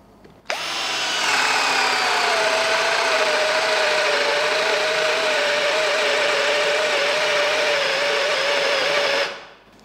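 A DCA cordless drill bores into wood with a 25 mm bit, a loud steady motor whine under load that starts abruptly, holds strained and even for about nine seconds, then cuts off.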